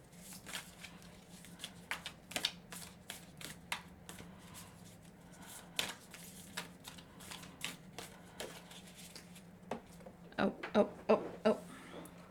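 Tarot cards being shuffled by hand, a run of soft papery snaps and flicks at an uneven pace, close by, with a denser flurry near the end and quiet speech underneath.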